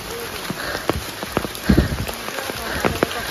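Monsoon rain falls on a forest trail with a dense, steady patter. Several louder drops or footfalls break through at irregular intervals.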